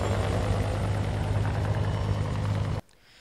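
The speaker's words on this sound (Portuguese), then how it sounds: "Um helicóptero da Polícia Civil também auxiliou na ação." A Civil Police helicopter engine drones loud and steady with a low throbbing rotor, then cuts off abruptly.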